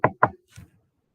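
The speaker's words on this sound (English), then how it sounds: "Knock on wood." Two sharp knuckle raps on a wooden surface in quick succession, followed by a softer third tap, close and dry with no voices.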